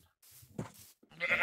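A sheep in a video game gives a short bleat near the end, following a stretch of quieter game sounds.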